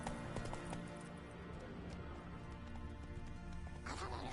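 Roach the horse galloping in The Witcher 3, a steady rhythmic clip-clop of hooves running throughout under a constant game background, with a brief louder burst near the end.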